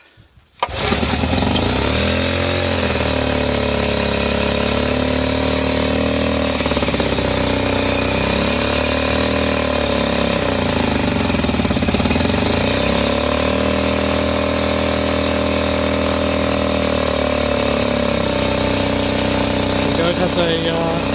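A Johnson Seahorse 4HP outboard motor starts abruptly after a brief silence and then runs steadily and loudly at close range, its fast even putter keeping a constant pitch with slight wavering throughout.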